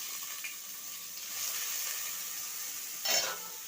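Onion fries in two spoons of oil on a gas stove while being stirred, a soft continuous sizzle with a short scraping burst near the end, close and without talk.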